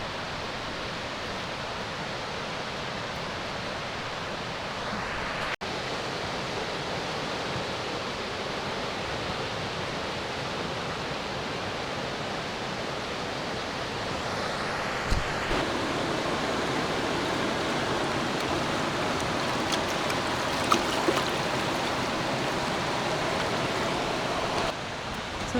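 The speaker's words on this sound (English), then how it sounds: "this is the South Fork of the Chetco River." The South Fork of the Chetco River in the Rogue-Siskiyou National Forest rushes steadily at a campsite, a continuous broadband roar of flowing water with no talk over it.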